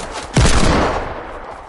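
Gunfire bursts out loud and close after a brief quiet lead-in, a sharp crack followed by a rolling, sustained volley that slowly fades, as someone shoots back during a game.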